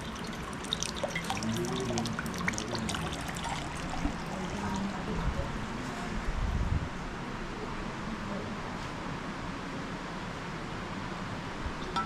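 Warm mineral spring water trickles and drips from a spa drinking fountain colonnade in Karlovy Vary, a steady soft patter and splash heard up close, faint and continuous with light background ambience.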